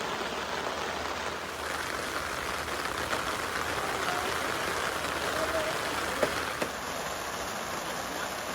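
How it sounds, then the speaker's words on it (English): Heavy rain falling on a campsite during a hike to Mt. Massive, a constant close hiss of water pattering on surfaces with no talk and a couple of faint knocks late on. "The rain is coming down pretty good."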